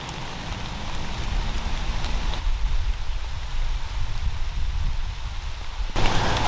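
Rain falling outdoors in an Ohio woodland during a November storm front, a dense steady hiss of drops on leaves and surfaces with low rumbling wind, loud and continuous with no voices.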